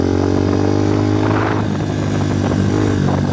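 A Kovi 250 motorcycle engine idles steadily after carburetor cleaning and tuning, a close, continuous buzzing drone with a slight rise in revs midway and no talk.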